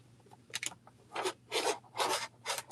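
Quilting fabric being cut in a series of four or five short, crisp slicing strokes at close range, each a brief burst with small gaps, against a faint steady hum and no talking.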